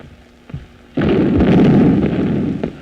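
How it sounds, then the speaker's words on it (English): Field artillery fires in a 1931 film: a faint thump, then a loud booming blast that rolls on with rumbling bursts and a final sharp crack, all without speech. "The stupid field artillery. They're shooting the wrong way."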